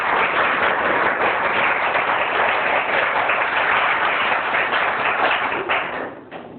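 Sustained audience clapping at a prize distribution ceremony in a government high school, a dense crowd of hands applauding steadily for several seconds before tapering slightly at the end.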